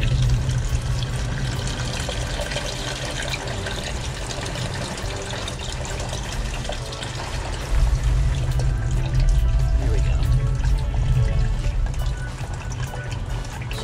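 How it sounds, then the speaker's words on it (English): Steady splashing and trickling of engine water draining continuously from the raw water pump of a Volvo Penta 5.7GI marine engine, fairly loud and close, with no voices. "This will eventually stop as soon as the rest of the engine water drains out."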